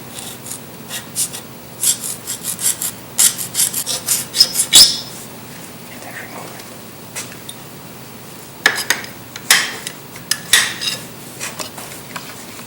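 A sharp tool scratches a mark onto a metal seat bracket from a BMW E36 during a racing seat install, giving bursts of close, rasping scrapes that come in uneven strokes with short pauses between them.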